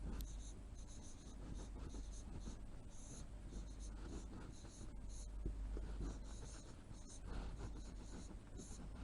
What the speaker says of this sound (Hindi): तो लिख देते हैं